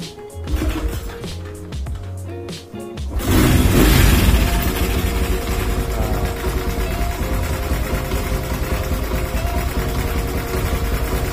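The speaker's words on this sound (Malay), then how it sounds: "So bunyi enjin pun memang agak smooth lah." After a few seconds of scattered clatter, a small Honda Dream motorcycle engine with no battery, running on the coil alone, fires up and holds a steady, loud, even idle to the end.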